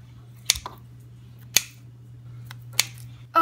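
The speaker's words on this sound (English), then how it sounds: "we're just gonna dice it up into small pieces" Grill-smoked bacon diced into small pieces with a knife: three sharp, isolated chops about a second apart over a steady low hum, with no talking.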